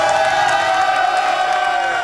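At a robotics competition, a crowd cheers loudly and continuously with whoops and shouts blending into a dense roar that holds for about two seconds.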